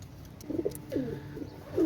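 A Royal Teddy running pair of Pakistani pigeons cooing softly at close range, several short throaty coos in an uneven rhythm over faint background noise.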